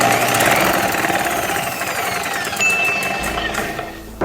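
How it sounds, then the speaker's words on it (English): Homemade bowling ball spinner running, a loud, rough mechanical whir with rattling, knocking vibration and a thin high whine rising partway through, close up with no talking. "So I built a homemade bowling ball spinner."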